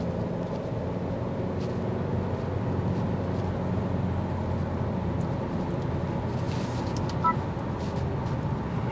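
A 2024 Honda Civic Sport Touring hatchback driving in sport mode gives a steady, loud interior engine and road drone with a dense low rumble that holds throughout, with no talk.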